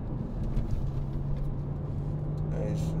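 A 2011 BMW Z4 sDrive23i accelerating on kickdown, its engine note a steady, rising drone heard from inside the cabin over road rumble, with a voice briefly speaking near the end.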